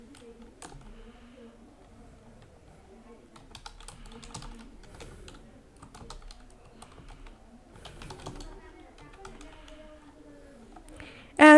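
Soft, steady clatter of typing on a computer keyboard, with irregular clusters of keystrokes and short pauses, quiet and close, alongside faint clicks.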